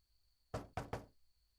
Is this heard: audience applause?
no